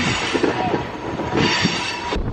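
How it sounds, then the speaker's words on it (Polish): A train rumbles past with a steady, loud, broadband roar and faint rhythmic wheel clatter; no one speaks. "a ten pociąg nadal jedzie"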